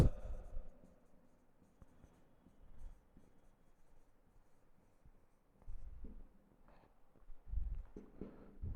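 Pen or chalk writing out natural numbers during a maths lesson, soft scratchy strokes in short bursts with quiet pauses between them.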